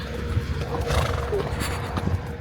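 A horse whinnies during a sunset trail ride among the fairy chimneys outside Göreme in Cappadocia, heard amid steady outdoor noise, hoof clops and a person talking.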